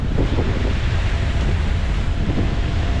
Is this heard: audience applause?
no